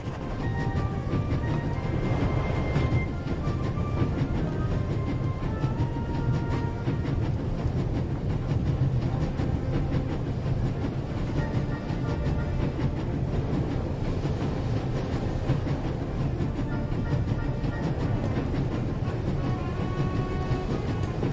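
A train rolling steadily along rails in the game The Raven Remastered, a continuous low rumble with faint rhythmic clatter, close and even throughout with no pauses.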